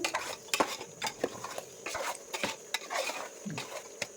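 A spoon stirs country chicken curry in a metal pot, giving irregular close scrapes and clinks against the pot with a soft bubbling sizzle underneath.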